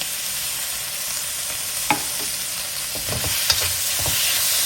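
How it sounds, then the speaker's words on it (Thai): Liver stir-fried in a pan with sugar, seasoning, green-cap sauce, light soy and oyster sauce: a steady close sizzle with scraping stirs and a few sharp spatula taps. "ผัดต่อเล็กน้อยครับ ให้เข้าเครื่อง"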